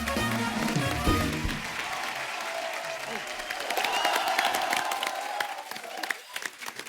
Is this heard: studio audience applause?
yes